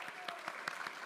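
A church congregation claps during a Sunday service, a brief burst of quick, uneven hand claps heard faintly from a distance.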